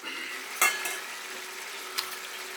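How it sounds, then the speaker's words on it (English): Lamb stir fry with harissa being stirred in a pan, a quiet steady sizzle with a couple of brief utensil clinks against the pan, close but faint. "I'll give it a stir, see what it's like."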